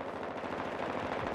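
A short burst of rapid automatic gunfire from the shooter game Call of Duty Modern Warfare 2 during a team deathmatch, a quick steady rattle heard up close with no talk.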